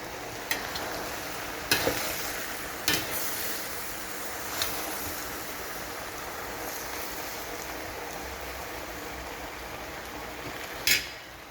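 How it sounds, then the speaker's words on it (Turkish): Green beans sauté in a pot on a home stove, a continuous soft sizzle and hiss with a few sharp clicks and scrapes of stirring at intervals, close and steady, no voices. "O yüzden bayağı bir kavuracağım bunu."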